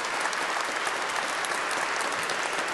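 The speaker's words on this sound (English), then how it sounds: "the congregation broke out in loud applause" A church congregation at Mass breaks into loud, sustained applause after a priest's homily, a dense, even wash of many clapping hands with no voices standing out.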